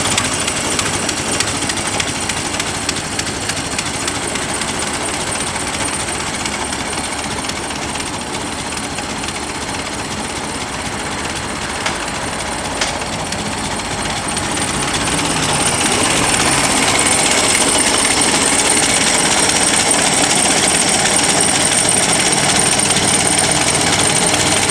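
A Ford Model T engine runs steadily with a loud, broadband mechanical clatter that swells noticeably louder partway through, with no voices present.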